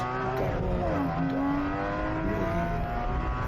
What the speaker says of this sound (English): These cars have a really nice harmonic that the exhaust note turns just guttural and